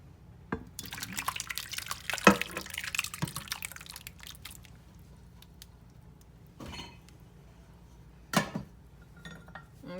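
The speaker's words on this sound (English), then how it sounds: "You just pour your jello right in it." Jello poured into a glass dish: soft liquid trickling and dripping sounds with light glassy clinks and a few sharp knocks, close and fairly quiet, no talking.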